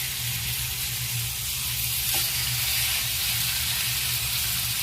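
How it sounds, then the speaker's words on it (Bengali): Chicken leg pieces frying in hot oil and butter, making a loud, steady, dense sizzle that holds evenly throughout, close up with no voices. "তেল আর বাটার গরম হয়ে গেছে। এবার আমি লেগ পিসগুলো একটা একটা করে দিয়ে দেব।"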